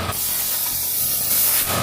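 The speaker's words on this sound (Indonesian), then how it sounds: "kami meniup semuanya dengan udara" Compressed air blasts into the spark plug hole of an old, long-abandoned Ford Mustang GT engine, blowing out dirt and grime in one steady, loud hiss that swells toward the end.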